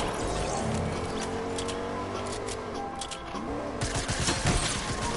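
Submachine gun fire in a video game shooter match, rapid bursts and clatter layered with other game sounds and mechanical clicks, a dense busy mix throughout.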